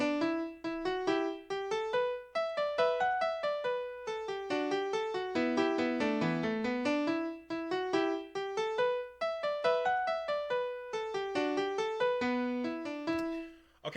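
Computer-generated orchestral rendition of an Irish Fantasy theme, with busy, repeating melodic lines in steady rhythm, continuous and fairly quiet throughout.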